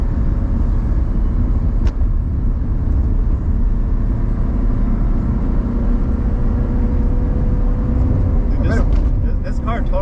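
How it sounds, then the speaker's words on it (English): A car engine rumbles steadily at a smooth idle, then holds an even cruising drone, close by, with people talking over it. "It's got a sweet idle sort of like cruising sound."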